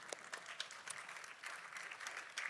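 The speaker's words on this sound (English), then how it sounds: "Yeah, you can clap for that" A church congregation claps together, a dense, even patter of many hands with a few sharper individual claps standing out, heard from a short distance and sustained throughout without speech.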